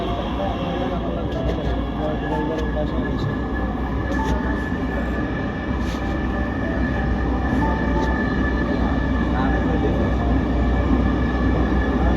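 A metro train in Dhaka, bound for Uttara North, rumbles steadily throughout, a loud continuous roar of wheels and motor with faint squeals and brief announcement-like voice tones over it.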